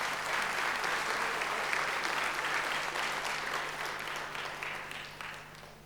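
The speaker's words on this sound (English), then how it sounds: "Once more, a round of applause." Audience at a national public lecture applauds Minister Jackson Mthembu, sustained dense clapping from a large crowd that holds steady and then slowly tapers off.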